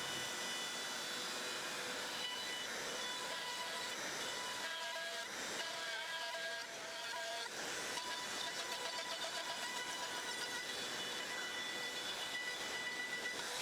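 A CNC machine cuts salvaged material at a 4 mm depth per pass, giving a loud, steady, broadband hiss and whine that runs continuously throughout with slight fluctuations.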